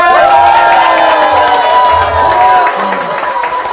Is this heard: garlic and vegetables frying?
no